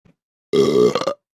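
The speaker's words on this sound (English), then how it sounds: "it's always Dad who belches." A man lets out a single loud, drawn-out belch, close and clear against silence, rumbling for about half a second with a few choppy bursts at its tail.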